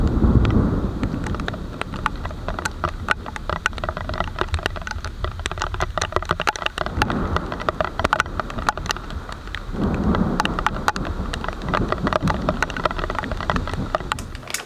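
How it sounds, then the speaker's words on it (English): Rain pelts an SJCAM SJ7 Star action camera sealed in its underwater case during a thunderstorm, a dense, close patter of drops clicking against the housing over muffled, booming low rumbles. "you could actually hear the raindrops hitting the case and sort of echoing inside it"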